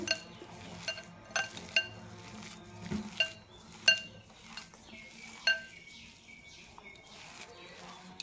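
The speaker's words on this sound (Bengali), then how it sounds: "तो ভালোভাবে আমি আলুটাকে মেখে নেব।" Boiled potato is mashed with chaat masala and red chili powder as filling for Bengali-style aloo paratha: quiet, irregular clinks and taps of a utensil against a bowl over soft stirring and squishing, with brief pauses between strokes.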